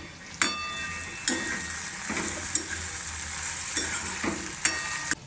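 Okra curry fries in a pan with a steady close sizzle, broken by a sharp spatula scrape or clink against the pan roughly every second as it is stirred.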